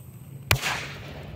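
A Super Triangulos firecracker, two years old, explodes with a single sharp bang, a loud close crack with a short decaying tail.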